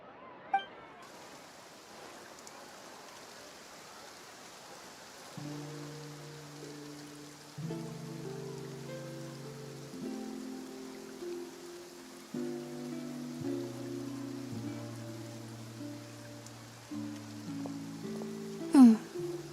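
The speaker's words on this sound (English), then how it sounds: "Looks like rain." Rain falls in the Genshin Impact game world of Fontaine, a soft steady patter beneath gentle melodic game music that enters partway through, with a brief chime near the end.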